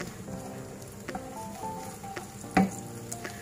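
Chopped onion sautéing in ghee in a pan gives a soft, steady sizzle, with scattered stirring clatter and a sharper spoon knock near the end.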